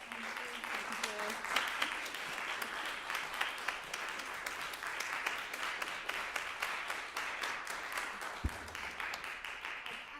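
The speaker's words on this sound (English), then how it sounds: "I want to have a round of applause for our performers" Sustained audience applause for a piano duo after a lecture recital, steady even clapping from a room of listeners lasting about ten seconds.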